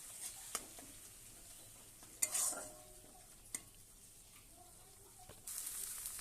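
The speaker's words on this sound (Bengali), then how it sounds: "দিয়ে এবার এটাকে ভালো করে ভেজে নেব" Onion with ginger-garlic paste frying in a pan for a doi katla fish curry: a faint, low sizzle with occasional clinks and scrapes of stirring, no voices.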